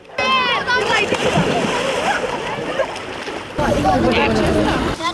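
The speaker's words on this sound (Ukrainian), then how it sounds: "Дітям до вподоби стрибати у воду з берега." Children jump from the shore into the water at a crowded central beach on a warm summer day, making repeated loud, close splashes and sloshing amid a constant hubbub of voices.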